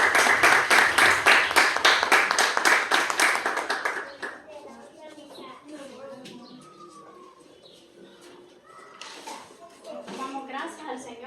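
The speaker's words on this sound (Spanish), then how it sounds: "Un aplauso para Cristo, pues." A church congregation applauds loudly in dense, rapid claps for about four seconds, then the clapping stops and quieter voices and birdsong follow.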